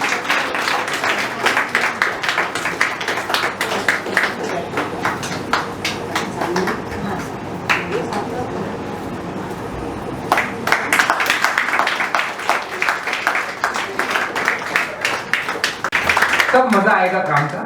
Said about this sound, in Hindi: आप सबकी जोरदार तालियां तब तक बढ़नी चाहिए जब तक इनका सम्मान पूरा नहीं हो जाता है